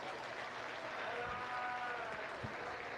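Steady applause from an audience at a county fair livestock show ring, a continuous soft wash of clapping throughout, fairly distant and even.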